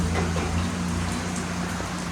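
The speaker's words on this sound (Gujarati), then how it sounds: "આ જો કેવો વરસાદ પડી રહ્યો છે" Steady, dense patter of rain falling in a village, a continuous hiss with a low rumble underneath and no voices.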